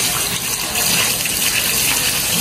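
Dirty rinse water gushes steadily as it is poured off freshly washed sand during a third rinse, a continuous close splashing rush with no talk.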